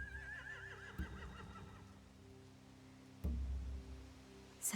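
Horses neighing in The Walking Dead video game, a wavering whinny early on over low ambient rumble with a couple of thuds, fairly faint and without talk.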